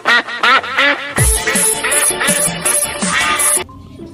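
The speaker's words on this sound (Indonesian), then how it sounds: "ini adalah mainan bebek angsa" A toy duck quacks repeatedly, loud and close, a run of short nasal electronic quacks that gives way to a busier playful jingle with more quacking before stopping abruptly.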